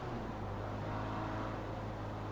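A Triumph TR3 sports car engine accelerates on a road near the Glenfinnan viaduct, a steady, loud, rough drone that holds throughout without any talk.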